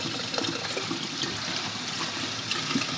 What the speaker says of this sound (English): So you can run the water right in there.